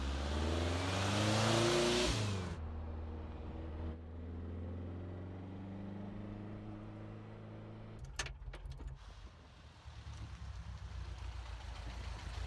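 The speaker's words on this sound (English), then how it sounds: "we're going to take you for a spin in a bright red sports car" A bright red kit-built sports car roars loudly as it accelerates on a test ride, a strong revving engine note for the first couple of seconds, then settling into a steadier, lower drone with some rattling toward the end.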